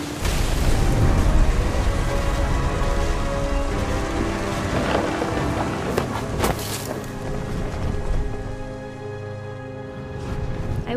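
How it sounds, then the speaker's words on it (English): Heavy rain pours steadily through a thunderstorm in the video game What Remains of Edith Finch, with deep rolling thunder and a few louder cracks rising over the constant hiss. No voices are heard. "The thunder sounded much too close and full of angry power."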